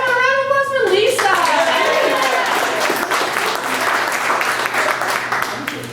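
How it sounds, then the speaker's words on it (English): Studio audience applauding and cheering as a guest named Lisa comes up on a talk show, a loud sustained wash of clapping with a voice calling out at the start and crowd voices mixed in. "Everyone, a round of applause for Lisa."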